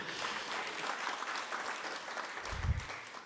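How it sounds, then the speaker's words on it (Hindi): An audience at a Hindi poetry gathering (kavi sammelan) in Shimla claps steadily, a continuous wash of applause from a crowd heard at some distance, with a low thump near the end. "आप अपने लिए एक बार तालियां बजा लीजिए।"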